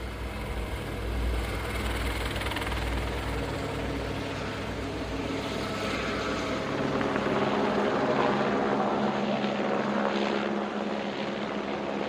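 An aircraft flies low over a stream during timber trail tower construction, its steady, loud engine and propeller roar filling the whole stretch and slowly shifting as it passes, with no talk.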